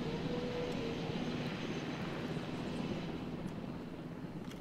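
A helicopter in the dinosaur park game Jurassic World Evolution hums steadily, its rotor and engine noise forming a continuous, moderately quiet drone with no talking.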